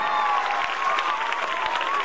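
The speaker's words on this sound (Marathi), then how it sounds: "टाळ्या, फक्त टाळ्या" An audience at a school annual gathering applauds, a dense, even wash of claps lasting the whole moment with a faint tone drifting over it.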